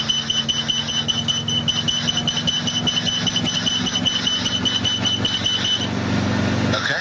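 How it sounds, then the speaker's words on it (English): In an Enstrom helicopter cockpit during pickup, a steady high-pitched warning horn sounds continuously over the close, pulsing drone of engine and rotor, then cuts out shortly before the end while the machine keeps running. "You're going to hear a horn."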